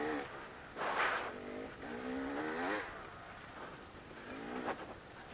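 Enduro motorcycle riding in second gear, its engine rising and falling in several clear revving surges close by, with no talking.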